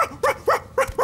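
A cartoon dog barks four or five times in quick, even succession, sharp mid-pitched yaps close up with no other sound around them.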